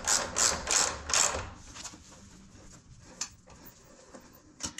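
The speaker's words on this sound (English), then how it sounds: "So now I'm just going to screw the bolts back on." A ratchet wrench clicks in quick bursts while bolts are screwed back on during a light install on a Can-Am Spyder F3, the ratcheting loud at first, then sparse single clicks and taps follow.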